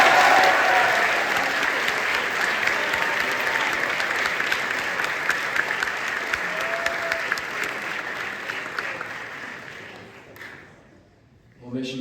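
Sustained audience applause fills a school awards ceremony for a jazz band soloist, broad and steady for about ten seconds before fading out, with a faint voice near the end.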